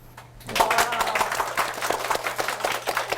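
Clapping from the audience at an ICT career mentoring talk as a second guest is introduced, starting abruptly after a brief quiet moment and continuing as dense, steady applause.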